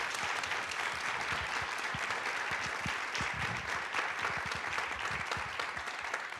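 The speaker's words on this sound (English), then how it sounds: "giving another round of applause to our panelists" An audience at a film screening and panel talk gives the panelists a round of applause: dense, steady clapping from many hands, moderately loud and sustained throughout, with no voices standing out.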